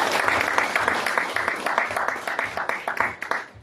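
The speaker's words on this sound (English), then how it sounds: "Please clap for them." Audience applause at a Law Society of Kenya event honouring Gen Z protesters, a dense, sustained patter of many hands clapping at steady loudness throughout, with no speech over it.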